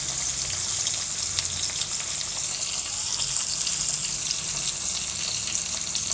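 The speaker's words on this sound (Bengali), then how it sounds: "মাছ ভাজা হচ্ছে এখন।" Fish frying in a pan for a Bengali dish, a dense, even sizzle and crackle of hot oil that keeps up steadily without any voices.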